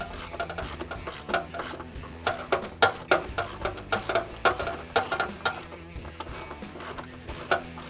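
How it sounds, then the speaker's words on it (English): A ratchet clangs and clicks in quick irregular strokes while a slide floor is installed in an INEOS Grenadier, close metallic clatter with brief pauses between bursts. "Sorry if it's a little noisy, clanging the ratchet."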